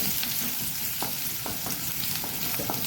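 Finely chopped onion fries in oil in a pan, a steady close sizzle with soft clicks and scrapes of stirring throughout.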